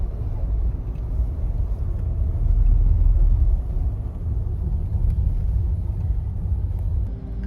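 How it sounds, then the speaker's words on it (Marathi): A car drives through slow Mumbai traffic, heard from inside the cabin as a steady, close, low rumble that swells slightly around the middle and never drops away. "मुंबईमध्ये आम्हाला ट्रॅफिक लागला आहे"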